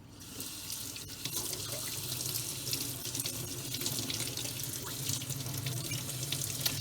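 Tap water runs in a steady, hissing stream to rinse a part from a Dyson V6 Animal cordless vacuum, close and continuous with slight splashing variation and no talking.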